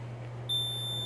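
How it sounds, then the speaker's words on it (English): A Mircom FX-2000 fire alarm panel gives off a steady, piercing electronic beep tone that starts partway through and holds, over a constant low electrical hum. "so we acknowledge the alarm"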